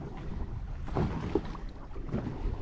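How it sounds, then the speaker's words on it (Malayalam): Big sea waves wash around a boat out in deep blue water off Chaliyam beach, Kozhikode: a steady, close roar of water and wind buffeting with no voices. "നല്ല വലിയ വലിയ തിരയാണ്"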